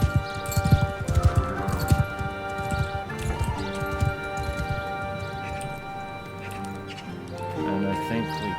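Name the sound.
horse hooves clip-clopping in video game Mount and Blade II Bannerlord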